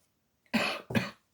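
A person gives two sharp, close coughs in quick succession after a moment of silence.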